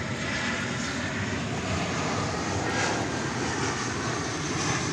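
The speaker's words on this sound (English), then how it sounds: "Passing in front of me there is American Flight 1696 from Wichita. And there it goes landing," An American Airlines jet arriving from Wichita passes by and lands at DFW Airport, producing a loud, dense, steady engine roar throughout the short stretch without any speech.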